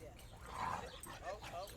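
An excited dog barks and yips in a few quick bursts at moderate distance, mixed with voices talking over it.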